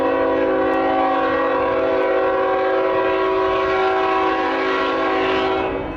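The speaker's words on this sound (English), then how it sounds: "Yeah, get a container train," A container train rolls over a crossover, with a sustained, loud horn made of steady layered tones running the full length and rail rumble underneath on a windy day.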